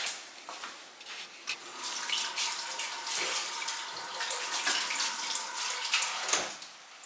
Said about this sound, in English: Now, I want to wash my hands real quick.